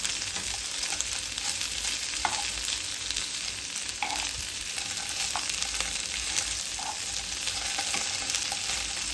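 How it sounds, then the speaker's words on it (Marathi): Continuous sizzling and spitting of chicken frying in hot oil in a pan, steady and close, with a few light clinks. "चिकनची दुसरी साईड फ्राय होण्यासाठी ठेवायची"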